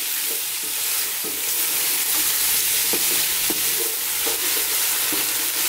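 Onions for a lamb and potato curry fry on high heat with a constant loud sizzle, and a spoon scrapes and taps the pan at intervals as they are stirred, with no talk.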